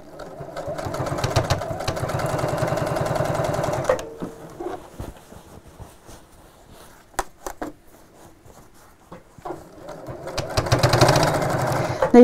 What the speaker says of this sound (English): you'll be sewing over the ends of the strap, as you can hear there, the fabric's quite thick